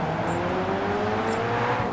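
A race car engine in Grid 2 revs hard at the start of a race, a loud steady whining drone with rising pitch that continues unbroken for the whole moment, with no talking.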